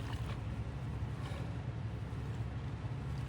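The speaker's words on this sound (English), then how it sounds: "You can probably hear in the background all the exhaust fans for the greenhouse going on" Greenhouse exhaust fans run on a hot day, a steady, even broadband drone with a low hum that holds constant and fairly faint, with no voices.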